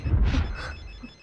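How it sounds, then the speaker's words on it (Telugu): A telephone rings in a film scene, a short burst of bell-like tone over a low rumbling background, heard once and fading, with no voices. "రింగ్ అవుతుంది."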